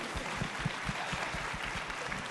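Applause from the audience at an executive leadership panel in Toronto: a quiet, continuous wash of clapping with some individual hand claps standing out, heard from a distance and fairly faint throughout.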